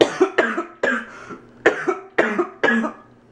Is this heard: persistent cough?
yes